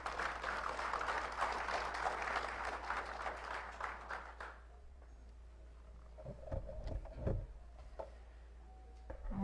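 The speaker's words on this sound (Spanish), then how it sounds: "Recibimos con fuertes aplausos a la doctora Beate Schmidt-Berglau." Audience at a conference panel applauds loudly and steadily for about five seconds to welcome a speaker, then the clapping stops abruptly, leaving quiet room noise and a few soft thumps.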